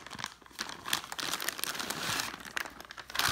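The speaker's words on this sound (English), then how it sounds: "It comes in this nice plastic bag. Alright, let's take it out" A plastic bag holding a double camping hammock crinkles and rustles continuously up close as the hammock is pulled out, with bursts of sharper crackling.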